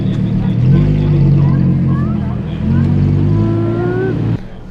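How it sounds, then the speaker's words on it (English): A Lamborghini sports car engine revs loudly and close by in two sustained surges with rising and falling pitch. Speech is also present, and the sound cuts off abruptly near the end. "That's that Lamborghini."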